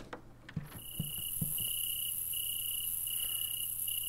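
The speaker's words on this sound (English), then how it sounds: "Cricket noises" Crickets chirp in the pre-alpha build of the video game Hello Neighbor, a thin continuous trill starting after a few soft footstep-like thumps, steady and fairly quiet.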